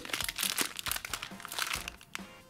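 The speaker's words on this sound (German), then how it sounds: "Einfach die Tüte umschlagen und ein bisschen einrollen." A plastic snack bag crinkles and crackles in quick, irregular bursts as it is folded and rolled, close up and fairly quiet.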